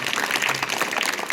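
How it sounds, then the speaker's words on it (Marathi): Applause from an audience at a district council primary school in Viregaon, Jalna, for children's speeches: steady, dense clapping from many hands, moderately loud and continuous. "सर्वप्रथम या सर्व मुलांसाठी जोरदार टाळ्या होऊन जाऊ."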